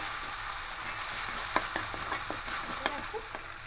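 A banana flower and onion mixture sizzles softly as it is stir-fried. Several distinct spatula taps and scrapes stand out in the middle, fairly quiet and close, with no speech.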